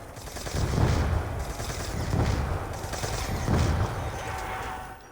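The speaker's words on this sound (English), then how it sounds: "I'm going to just finish this out with the Mark II." Gunfire from the Mark II weapon in Call of Duty Zombies on the Tranzit map, a steady run of rapid shots in several sustained bursts, moderately loud within the game mix.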